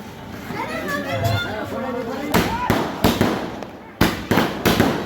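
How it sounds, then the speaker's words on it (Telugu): Firecrackers burst at a festive Sita Rama wedding celebration, with several sharp, loud bangs in quick irregular succession over children's chatter and a nearby voice. "టపాసులు"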